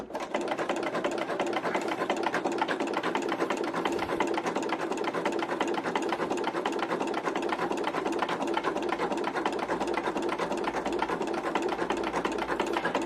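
An embroidery machine stitches very slowly, producing a continuous mechanical whir with a fast, even needle chatter that runs unbroken and close throughout.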